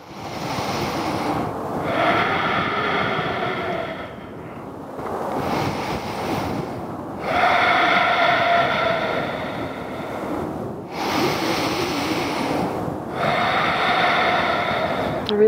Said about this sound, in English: Take 3 deep breaths in it.